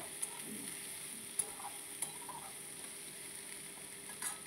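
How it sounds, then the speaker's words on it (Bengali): Onion, chopped chili and potato fry in a pan while being stirred, a faint steady sizzle with a few soft spatula taps, quiet and close with no talk. "এবারে আমি দিয়ে দিয়েছিলাম পেঁয়াজ লঙ্কা কুচি আলুটা ভাজা হতে, দিয়ে একটু ভালো করে একটু কষিয়ে নিচ্ছি আমি।"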